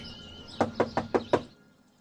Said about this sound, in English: And what do you suggest we do? Knock?